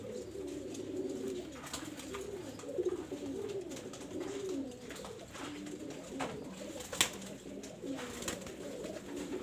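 Pigeons coo softly and continuously in a loft during pigeon selection, their low rolling calls steady beneath faint background ticks and rustles.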